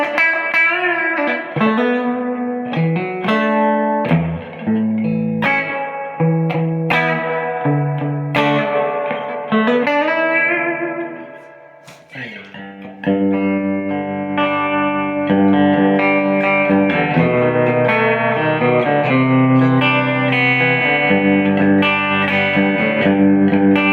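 An electric guitar plays chords and melodic lines through a 1965 Fender Deluxe Reverb reissue tube amp with added master volume and mids control, sounding loud and sustained with spring reverb and vibrato wash and a brief dip midway.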